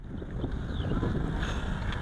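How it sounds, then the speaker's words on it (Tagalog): Strong wind buffets an outdoor spot where a DJI Mini 2 SE drone is flying, a loud, rumbling gusty roar across the microphone with a faint high whine over it. "Kahit medyo malakas yung hangin."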